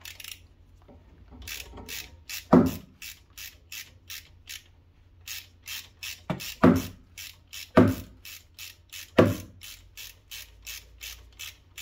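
A ratchet wrench tightens the rear brake caliper bolt on a 2008 VW Polo 9N3, giving close, crisp clicking strokes in short runs separated by pauses, with a few heavier pulls standing out. No one speaks.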